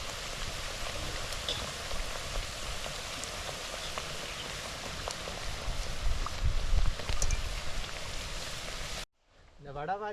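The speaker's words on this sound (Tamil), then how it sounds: "இது போட்டுட்டோம் ஒரு பக்கம் போயிட்டு கிண்டி திருப்பி விடுவோம் மற்ற பக்கத்துக்காக ரெண்டு பக்கம் பொரிக்கும்" Thattu vadai frying in hot oil gives a steady, close sizzling crackle that holds for about nine seconds, then cuts off abruptly.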